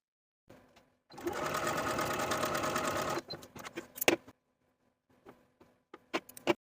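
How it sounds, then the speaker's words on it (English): A sewing machine stitches back darts on a romper, running in one steady burst of about two seconds, then falling silent apart from a few faint handling clicks and taps. "We can sew the darts from the top to the point"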